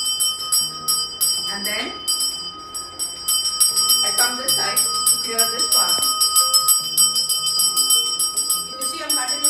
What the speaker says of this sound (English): If you see, I'm continuously ringing the bell.